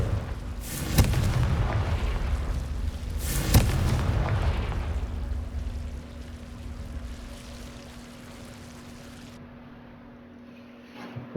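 Confringo fire spell cast in the Hogwarts Legacy video game, bursting twice as loud booming blasts about two and a half seconds apart, each rumbling off into a crackling tail that slowly fades, with no talking.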